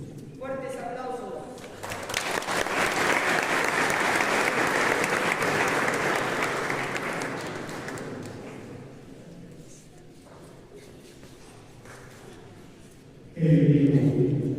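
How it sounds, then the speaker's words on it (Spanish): Worshippers at an outdoor Catholic Mass honoring Mamacha Carmen in Paucartambo give loud, sustained applause that swells and then fades, with voices heard before and after. "Fuertes aplausos."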